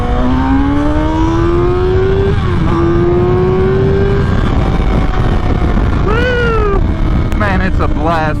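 A 2023 Kawasaki ZX-6R 636 motorcycle accelerates in a straight line, its engine note climbing through rising revs with quick shifts between gears, loud and close, with wind noise throughout.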